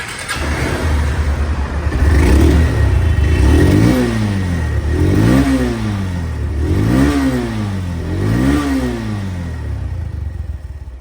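A second-hand Honda Hornet motorcycle in showroom condition revs hard from a steady idle, giving four rising-and-falling throttle blips in a row. The sound is loud and close, with no talking.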